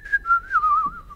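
A person whistles a short, bright wavering tune, mimicking a whistling emoticon that looks up innocently; one continuous close whistle with slight pitch slides, no talk.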